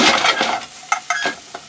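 Yam bulbils stir-fry with butter, garlic and soy sauce, a close sizzle broken by several sharp utensil clacks and scrapes against the pan.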